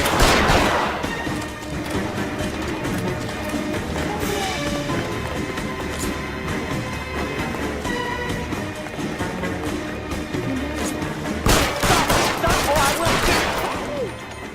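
A heavy exchange of gunfire in L.A. Noire: sustained, dense volleys of shots with crashing impacts, loudest at the start and again near the end, with voices mixed into the din.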